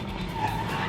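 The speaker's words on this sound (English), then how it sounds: "I will rev my engine with obviously my right foot, and then dump it really hard." A drift car in a Formula Drift event has its clutch kicked with the engine revved, and the tires skid loudly in a continuous squealing roar; no talk.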